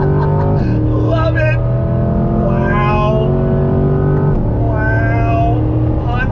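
A 2020 Chevrolet C8 Corvette Z51 accelerates hard in second gear on a twisty road, its engine note climbing loudly and close up from inside the cabin, while an excited voice talks over it.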